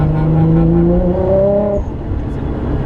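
A modified car engine, heard from inside the cockpit of a GTR or 1968 Mustang, accelerates hard under power, its loud rising drone climbing steadily in pitch, then easing off sharply as a gear change comes.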